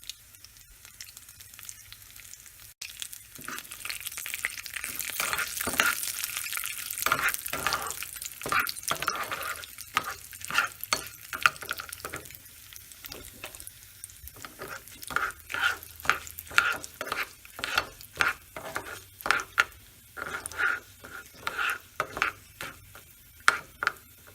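Urad dal, chana dal and dried red chillies frying in hot oil for Ven Pongal tempering, a bright sizzle that gives way to rapid rhythmic scraping and stirring strokes against the pan.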